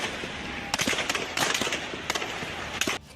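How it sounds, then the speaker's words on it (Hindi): Sharp bangs and cracks go off in irregular bursts during a violent street clash in Lahore, sounding like explosions and gunfire over a constant background din of crowd and street noise. "धमाकों की आवाज से पूरा इलाका गूंज उठा"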